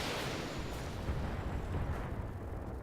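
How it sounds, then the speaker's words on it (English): Heavy autocannon fire from a mech in the BattleTech game rolls as a dense, continuous barrage of booming blasts with no clear gaps between shots, moderately loud and alone without voices. "turns on the Victor, fires with all the guns. Center of mass with the autocannon"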